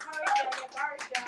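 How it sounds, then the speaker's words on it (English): Brief, uneven clapping from a small classroom group cheering a presenting team, with voices talking over the scattered claps. "So a round of applause for Bouquet"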